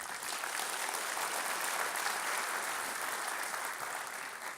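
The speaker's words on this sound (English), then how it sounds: "So let's give them a big round of applause." A crowd at a Long Beach civic event applauds the city departments with a thick, even wash of clapping that stays loud and continuous from start to finish.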